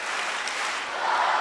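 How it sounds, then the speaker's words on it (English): A crowd at the Tel Aviv judo Grand Slam 2022 cheers and applauds in a loud, steady, dense roar that swells slightly toward the end, with no voices standing out. "Listen to that cheer."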